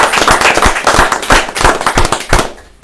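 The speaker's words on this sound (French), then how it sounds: "Ça s'applaudit s'il vous plaît" A studio audience claps for the 2017 Épinay Carnival Miss, a dense burst of loud, close applause with no voices over it, fading away at the end.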